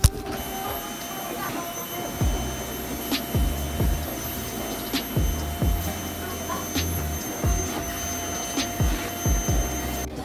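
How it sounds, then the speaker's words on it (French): A household vacuum cleaner runs steadily during a morning chore routine at home, a continuous drone with repeated bumps and knocks as it is pushed around, while a voice talks intermittently over it. "C'est mon tour de passer à l'aspirateur."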